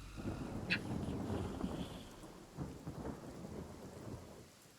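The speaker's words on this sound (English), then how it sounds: "Thunderstorm!" A thunderstorm in the video game Divinity: Original Sin: steady rain with low rumbling thunder rolling through, fairly distant and continuous.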